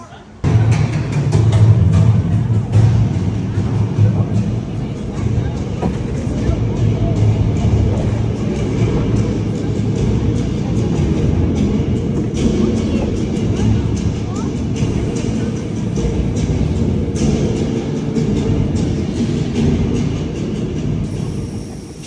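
A Universal Studios theme park tram rolls along continuously, rumbling loud and close, with a faint voice now and then over the drone.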